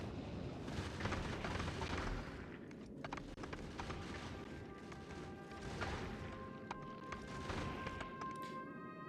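Rockets launching and exploding in Factorio: Space Age, a faint, continuous clatter of distant blasts and crackling impacts with repeated sharp hits and tonal beeps over a steady low rumble.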